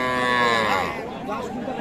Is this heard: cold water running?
no